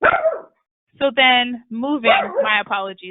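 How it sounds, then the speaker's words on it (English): A dog sitting right under a person at a home desk barks repeatedly in close, loud bursts, interrupting a woman's speech. "my dog has decided to sit right underneath me and is barking at nothing."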